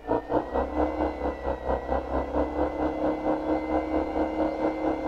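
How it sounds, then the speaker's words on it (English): A simulated engine of about 100 horsepower and 600 foot-pounds of torque runs in a video game test, a steady low idling hum with an even, rapid pulsing throb and faint whir, alone and moderately quiet. "I'm going to give you an engine test run"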